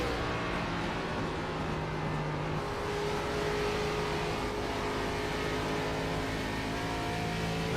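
ARCA series race car engines in iRacing drone and rev steadily, a dense, continuous roar with engine tones climbing slowly as the cars accelerate, steady and close throughout.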